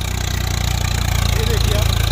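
A new Swaraj 855 4x4 tractor engine idles close by with a loud, steady low throb and an even rhythmic pulse, and a faint voice is just audible beneath it.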